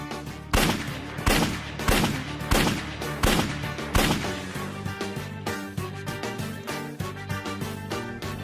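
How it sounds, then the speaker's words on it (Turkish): Loud gunshots ring out in a regular series of about six sharp cracks roughly 0.7 seconds apart, each leaving a short tail, followed by quieter, denser popping toward the end, heard alone. "Lan silah sesi var."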